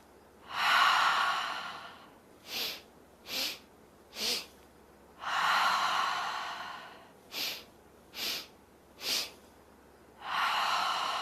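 Deep yoga breaths during a chair yoga session: long, slow, audible inhales and exhales alternate with sets of short, sharp breaths. The sounds are close and unvoiced, with quiet pauses between each breath.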